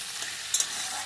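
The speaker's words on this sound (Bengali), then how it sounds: "এই যে এবার একটু ভাজা ভাজা করছি," Leafy greens for a lote shak curry with brinjal, pointed gourd and potato fry and get stirred in a pan, producing a brief steady hiss with a couple of quick spatula clicks.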